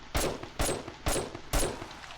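Gunfire in the video game 7 Days to Die, four loud, sharp bursts of shots spaced about half a second apart, each ringing briefly before the next.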